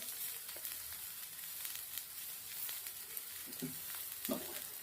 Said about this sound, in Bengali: এবার ভাজা ভাজা করবো সব কিছুর সঙ্গে মাছের তেলটা